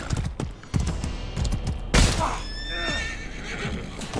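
A horse in the medieval combat game Mordhau whinnies with a rising neigh near the middle, among clattering hooves and impacts, while someone talks over the action.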